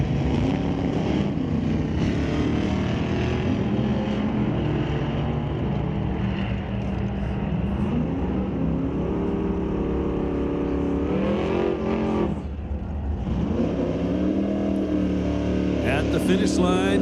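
Drag racing at Mission Raceway Park, a red 1988 Camaro against a 1978 Z28 Camaro, engines roaring loud and continuous as they accelerate down the strip, the pitch climbing through shifts, with an announcer talking over the noise.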